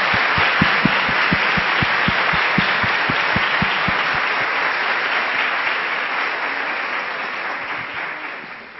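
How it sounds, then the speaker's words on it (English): Sustained audience applause fills an auditorium after a university lecture, dense and loud throughout with a few sharp individual claps standing out early on, slowly easing toward the end. "So a round of applause for Barb again,"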